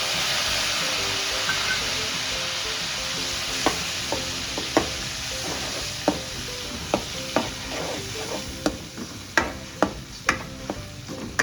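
Tomato and onion simmer and sizzle in a pan for a Gujarati potato gravy curry, a steady frying hiss with scattered sharp pops and crackles that grow more frequent toward the end, close and with no talking.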